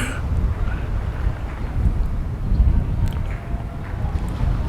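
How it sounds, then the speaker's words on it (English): Steady blustery wind roars and buffets the microphone under train tracks in Shibuya, Tokyo, a continuous low rumble with no pauses. "It's always very windy here under the train tracks."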